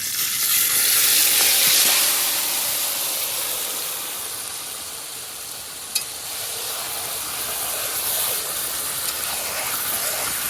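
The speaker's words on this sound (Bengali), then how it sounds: "আমি মাংসটা ঢেলে দিই।" Chicken pieces tipped into hot mustard oil already holding whole garam masala, cumin and bay leaves, giving a loud, steady sizzle and hiss that runs on throughout, with one sharp clatter partway through.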